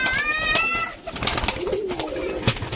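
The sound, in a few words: Rajshahi Giribaz pigeons released from loft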